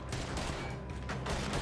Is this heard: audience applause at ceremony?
no